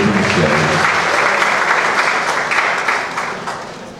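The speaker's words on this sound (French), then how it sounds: "Merci d'acclamer très fort Boïd Michel" A crowd at a women's fair launch gives Boïd Michel a strong round of applause, dense and sustained, fading slightly toward the end.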